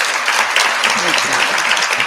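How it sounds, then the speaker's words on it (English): An audience at a leadership symposium applauds a panel with steady, moderately loud clapping throughout, a faint voice briefly audible underneath. "Give a round of applause for this amazing panel."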